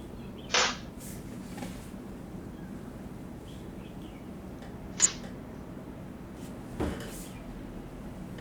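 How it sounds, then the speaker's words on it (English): Pantry doors open in a quiet house with a fan running, picked up by a Ring camera: three faint, sharp cracks or bangs spaced several seconds apart over a low steady hum. "he's awoken to the pantry doors opening and some kind of cracks or bangs coming from either inside the pantry"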